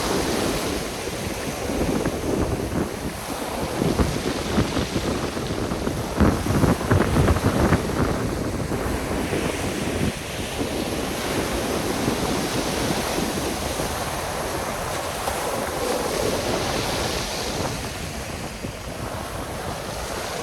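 Very strong wind buffets the microphone on a November evening by the sea at Lazarevskoye, with waves surging and breaking on the shore in a continuous, loud roar, no voices present.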